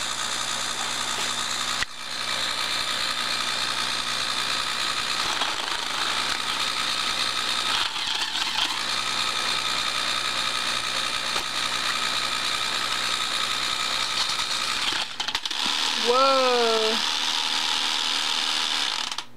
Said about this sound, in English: I reversed the motor.